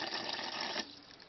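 Fresh water runs and splashes while rinsing out a fountain pen ink cartridge, a steady close trickle that drops off abruptly partway through to a quieter wet drip.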